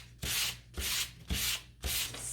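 Hand sanding of painted wood on an Easter fence, four steady back-and-forth rubbing strokes in a regular rhythm, close and clear with no talking.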